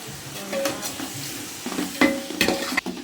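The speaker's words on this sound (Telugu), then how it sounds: "మసాలా అయితే వేగిపోయిందండి" Garam masala and chilli powder fry in a pot of oil with a soft, steady sizzle, broken by a few sharp clicks and scrapes of a spoon stirring against the metal, close by and with no voices.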